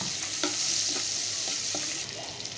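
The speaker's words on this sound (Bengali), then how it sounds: "ওই একই তেলে আমি পেঁয়াজ দিয়ে দিতেছি" Onions fry in oil left over from cooking shrimp, a dense, close sizzle broken by several scraping stirs of a spatula, with no talking.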